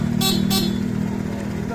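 Two quick honks from a motorcycle dual horn sound over a steady engine idle, close by, followed by the motor running on.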